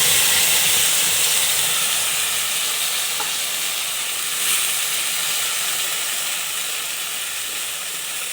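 Spice paste hitting hot oil in a pan, a loud, dense, steady sizzling hiss that eases slightly over several seconds, close up, with no talking.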